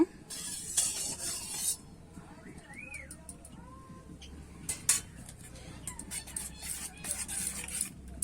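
A utensil stirs heated mustard oil in a pan, giving quiet metallic clinks and scrapes with a faint hiss. The stirring comes in short bursts, and a voice is heard now and then underneath.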